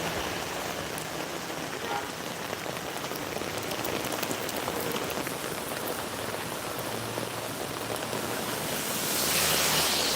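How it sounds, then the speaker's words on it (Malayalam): Heavy rain pours steadily onto surfaces during a rainy walk, a dense, loud, unbroken hiss that swells slightly near the end, with no one speaking. "ആ മഴയുടെ ശക്തി കൂടി"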